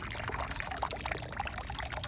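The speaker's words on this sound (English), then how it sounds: "we're filling the tank up to flush more particles out" Water pours steadily from a hot water heater tank being filled and flushed of sediment, a continuous close splashing trickle with no talk.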